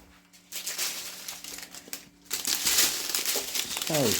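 A plastic kit packet crinkles and rustles in bursts as it is handled and cut open, close and fairly soft, with a brief squeaky sound near the end.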